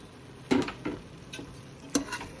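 Cooked mutton is stirred into masala for biryani, with a few soft, scattered scrapes and taps of a spoon against the pot over a faint, low background.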